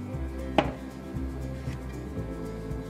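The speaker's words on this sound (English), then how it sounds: "Chop it up a bit to help it melt faster." A single sharp knife chop into soft food in a bowl during microwave acorn squash prep, one brief close hit followed by low steady background hum.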